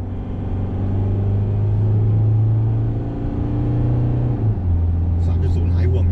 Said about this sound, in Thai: ลองเหยียบคันเร่งดูนะครับได้ว่าเร่งสุดๆแล้วเป็นยังไงนะครับ